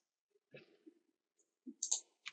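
A computer mouse clicks a few times in a quiet room, short crisp taps spaced irregularly, faint and close with nothing else heard.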